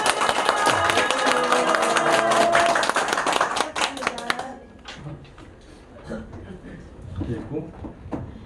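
An audience at a lecture on national security breaks into applause, a burst of many hands clapping that fades after a few seconds into scattered claps, with speech over it.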